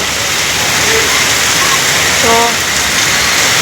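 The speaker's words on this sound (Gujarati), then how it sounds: "એ બાજુ એટલો વરસાદ પડે તમે જોઈ શકો છો." Heavy monsoon rain in Patan, a loud, constant hissing downpour close by, with a voice briefly speaking over it.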